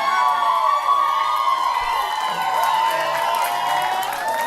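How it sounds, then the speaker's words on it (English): A comedy club audience at a crowd-work stand-up show screams and cheers, a loud, continuous wall of shrieks and whoops that stays dense and unbroken from start to finish. "All that extra screaming."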